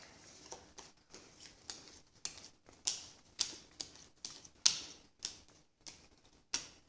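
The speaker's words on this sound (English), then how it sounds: "We can deal out some cards." Playing cards dealt one at a time onto a table, giving sharp, close snapping flicks at a steady irregular rhythm, about a dozen in quick succession with no talking.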